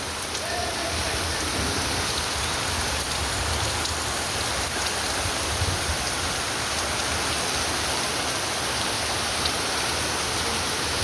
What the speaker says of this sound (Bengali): প্রচুর মুষলধারে বৃষ্টি হইতাছে